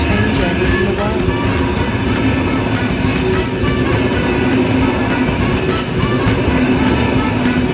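Steady, loud rumble of the Flåm Railway (Flåmsbana) train travelling through steep Norwegian mountain and fjord country, a continuous rolling drone with faint voices mixed in throughout.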